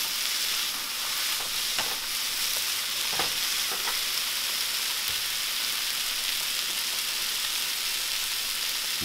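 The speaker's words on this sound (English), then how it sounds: "it's really just about stirring the onions so they cook evenly." Onions frying in a pan for a seafood sauce, a steady close sizzle with occasional soft scrapes and clicks of stirring running throughout.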